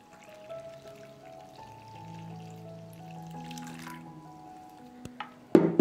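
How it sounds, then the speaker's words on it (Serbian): About 320 ml of hot water poured into a bowl of dry flour mix with baking soda, a thin trickling pour whose pitch rises as it fills, ending in a sharp clatter. "I dodajem 320 ml vruće vode."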